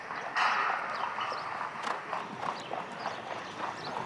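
The show jumping horse Sig Debalia's hooves beat a steady clip-clop on the arena surface at a two-star international Grand Prix. The hoofbeats sound moderately near over a continuous crowd and ambient wash.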